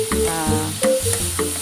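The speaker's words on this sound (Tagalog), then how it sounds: "lutuin po natin ng bahagya yung ating chicharo po" Snow peas stir-fried in a pan with butter for palabok, giving a steady loud sizzle with repeated scraping stirs, alone with no talking.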